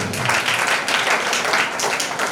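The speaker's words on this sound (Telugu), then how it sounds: "అందరూ ఒకసారి చప్పట్లు కొట్టి" An audience at a church Christmas celebration breaks into loud, sustained applause, many hands clapping densely and evenly throughout.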